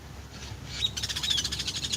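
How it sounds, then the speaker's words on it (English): Loud birds calling outdoors by a patchy grass yard, a rapid repeated series of bright, chirping calls starting partway through and continuing steadily, close and prominent. "we do have a lot of loud birds out here"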